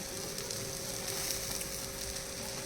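Egg poli, an egg-filled flatbread, roasting in a pan over low gas, making a continuous even close sizzle with a faint steady tone underneath and no voices.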